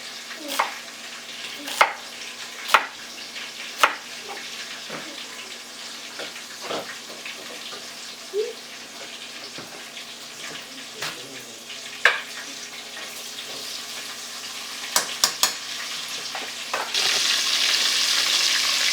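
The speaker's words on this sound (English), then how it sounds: "Deodorize it with the onions. You give it a good fry." Onions frying in a pan for a cauliflower banku and okro stew, with a steady soft sizzle, occasional sharp clicks and clatters of stirring, and the sizzle swelling louder near the end.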